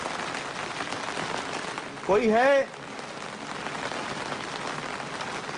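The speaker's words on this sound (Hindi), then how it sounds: "बारिश तेज होती जा रही है।" Heavy rain pours steadily at night, a dense hiss of drops on surfaces throughout, while a voice briefly calls out over it.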